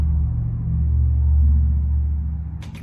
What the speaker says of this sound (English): Hang on, this is like a truck.